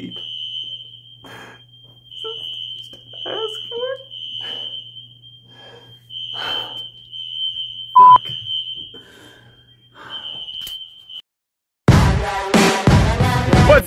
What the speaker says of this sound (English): today's vlog is starting with a fire alarm early in the morning